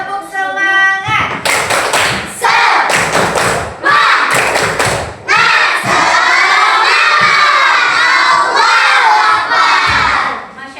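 Schoolchildren in a classroom loudly perform the tepuk semangat clapping chant, sharp rhythmic claps and table thumps alternating with bursts of shouted, cheering voices.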